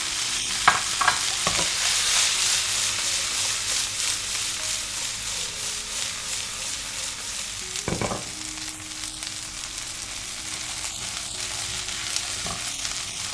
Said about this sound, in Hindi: अब इसी घी में सब्जियां भून लेंगे जो हमने ब्लांच की हुई थी।